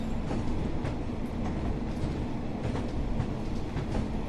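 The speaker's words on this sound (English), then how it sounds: "This train is the British Rail Class 142 diesel mechanical multiple unit in the provincial blue livery" British Rail Class 142 Pacer diesel mechanical multiple unit in provincial blue livery on the Blackpool branches, simulated in Train Sim World 4: a steady loud rumble of the running train with rhythmic wheel clatter, no voices.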